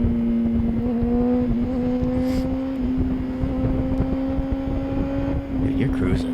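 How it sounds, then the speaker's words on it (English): A car cruises along a road, its engine a steady, loud drone with a sustained tone that holds throughout, while people talk over it. "That car's cruising."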